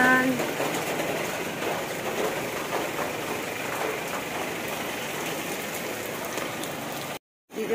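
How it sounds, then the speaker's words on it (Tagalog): Steady rain falling in the town of Baguio City on a foggy morning, a dense continuous hiss of drops on surfaces throughout, with faint background voices, cutting out briefly near the end. "Ayan, super maulan siya."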